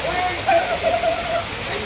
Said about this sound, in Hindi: अभी भी हल्की हल्की बारिश हो रही है।